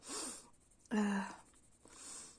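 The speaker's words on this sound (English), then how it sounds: "Just had to blow my nose." A short, close nose blow, a quick honking snort in the middle of soft breathy sniffles, quiet overall.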